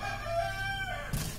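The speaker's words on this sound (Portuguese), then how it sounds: "meu galo canta muito" A rooster crows loudly and close by in a long drawn-out call with a rising then falling tone, heard on its own in a backyard where laundry is being washed by hand.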